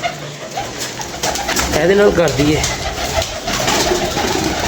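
Domestic pigeons coo in soft, repeated throaty rolls close by, with someone talking over and between the calls.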